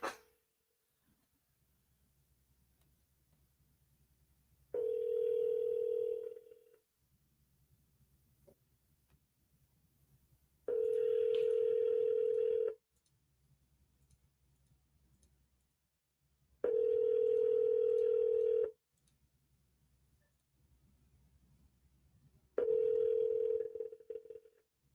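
Ringback tone of an outgoing phone call, four steady buzzing rings roughly six seconds apart, each about two seconds long, with quiet faint background noise between them and no talking.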